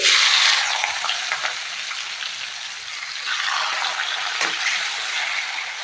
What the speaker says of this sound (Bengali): তো আমি এখানে পেঁয়াজ কুচি দিয়ে দিচ্ছি।